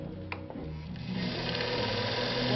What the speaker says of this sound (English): Not going to wind the whole bobbin because we're just going to do a short demo.